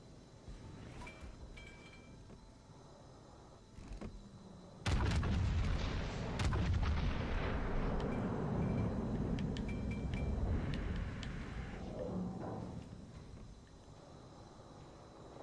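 Heavy naval gunfire in World of Warships Legends opens with a sudden loud boom, then a sustained rumbling barrage of cannon blasts and explosions that slowly fades over several seconds.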